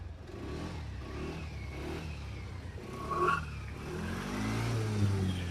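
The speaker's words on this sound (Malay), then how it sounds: "Ini engine memang elok. Boleh start." A SYM VTS 200 motorcycle engine runs and revs in a shop, a steady mid-pitched idle rising briefly, with no talking.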